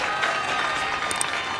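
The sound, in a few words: audience applause at a political rally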